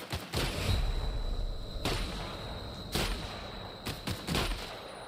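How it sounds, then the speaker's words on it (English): Gunfire in the video game The Outer Worlds: sharp shots crack out singly and in short clusters at irregular intervals over a steady background hum. "There's somebody shooting at me."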